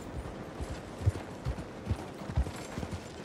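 Horse hooves clatter in the Red Dead Redemption 2 video game as a horse comes running up, with soft rhythmic thuds at moderate distance under a low background.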